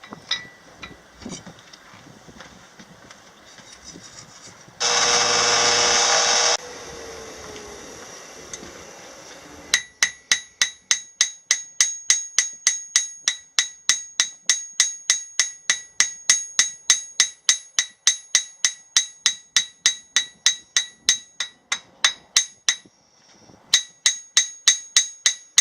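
Hammer blows on hot metal as a small leaf keychain is forged, a long steady run of bright ringing strikes at an even rhythm, preceded by a burst of loud rushing noise and quieter shuffling.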